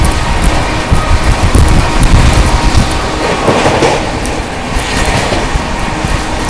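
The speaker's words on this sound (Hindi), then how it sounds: "सबसे पहले आ रही है भुवनेश्वर राजधानी एक्सप्रेस।" The Bhubaneswar Rajdhani Express passes at high speed, a loud, close, continuous rumble of wheels and carriages with clattering rail joints and rushing wind.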